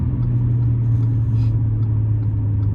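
Modified supercharged Audi S4 engine on a downshift, heard as a steady deep low rumble held at a constant level through the short moment, with no talk.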